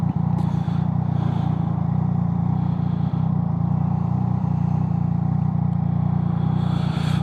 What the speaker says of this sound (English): Japanese bikes just fucking spit flames like nobody's business